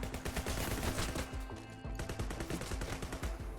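Rapid bursts of gunfire from a weapon in the video game Ninja Simulator, dense and continuous like automatic fire, loud and close with no talking.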